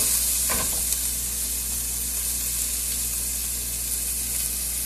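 Onions sizzle steadily in a smoking-hot pan of sesame oil, a dense continuous hiss with a brief stirring rustle near the start, close and without talk.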